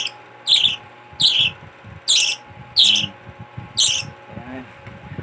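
A pet bird squawks sharply five times in a regular rhythm while being spoon fed a Cerelac and chick booster formula, loud and close, with soft spoon and handling sounds between calls.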